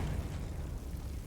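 A low, rumbling spell explosion, the Confringo blast from Hogwarts Legacy, heard as a brief muffled boom that fades quickly, fairly quiet and without speech.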